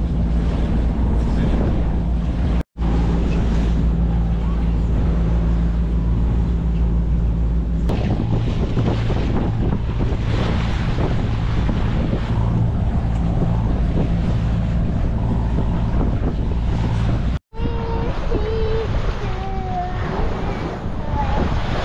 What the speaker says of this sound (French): La navigation se passe bien à part cette grosse houle et ce vent dans le nez.